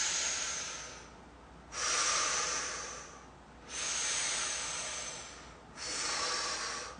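Slow, deep breaths during a stress relief exercise while squatting with the chin jutted forward: three long, airy, hissing exhales separated by quieter pauses, close to the mic and unaccompanied by talk.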